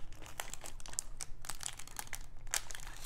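Football card pack wrappers crinkle up close in quick, irregular bursts of crisp plastic crackling during a quiet card opening, soft overall with no speech.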